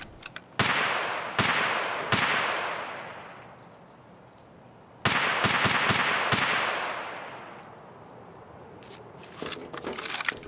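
Escape From Tarkov gunfight against player scavs: loud single gunshots and short bursts with long echoing tails, spread out across the stretch with quieter pauses between.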